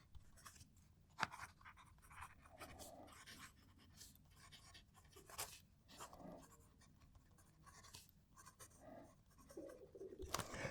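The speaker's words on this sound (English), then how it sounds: "just so you can have another chance to hear the pen writing" A TWSBI fountain pen nib writes a sentence on paper close to the microphone, soft scratchy strokes in quick irregular bursts over a quiet background.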